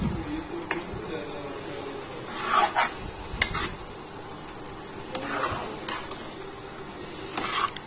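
Chana dal and green chili frying and being stirred in a pan, with a low steady sizzle under repeated scraping and clinking stirs, close by, and a voice speaking in parts.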